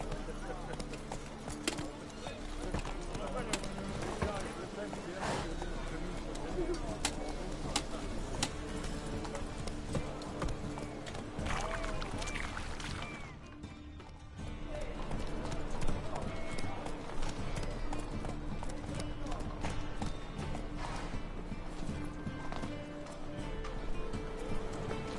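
Roach the horse galloping in a video game, a steady run of clip-clop hoofbeats close and loud throughout, with a voice speaking over it and a short dip midway.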